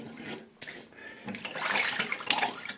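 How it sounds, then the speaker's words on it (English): Cold water splashes and runs from a tap as someone rinses their face, with steady rushing and irregular splashing up close. "Now I wash up my face with cold water."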